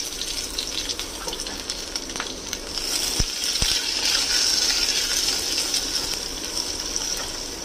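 Sliced onions frying in a pan with Kashmiri red chilli and mustard seeds over a medium flame, a steady soft sizzle with a couple of sharp clinks midway.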